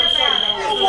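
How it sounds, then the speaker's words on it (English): A fire alarm rings in a hallway as a loud, steady, high electronic tone, with muffled voices faintly underneath. "Someone pulled the fire alarm."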